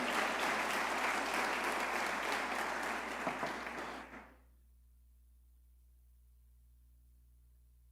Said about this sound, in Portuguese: force esse aplauso